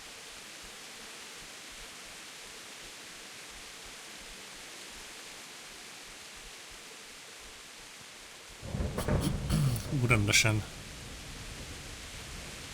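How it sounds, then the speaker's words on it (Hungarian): Thunder in a thunderstorm with lightning inside the Kingdom Come: Deliverance video game, a loud rumbling crash that breaks out near the end over a steady hiss of rain, with a voice speaking briefly. "villámlik meg minden. Nagyon kemény."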